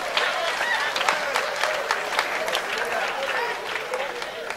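A church congregation claps together in a large room, loud rapid applause that continues throughout with some crowd noise mixed in.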